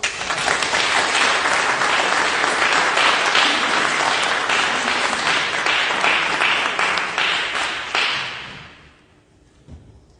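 Loud, dense audience applause fills a formal award ceremony for a national philosophy prize, steady for about eight seconds before fading quickly into near silence.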